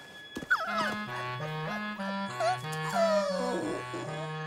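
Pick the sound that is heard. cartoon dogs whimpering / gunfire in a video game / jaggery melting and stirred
cartoon dogs whimpering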